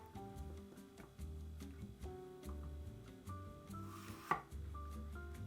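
Eggplant is being chopped with a knife on a wooden board, a quick, even run of soft knocks, quiet and close, over faint background music.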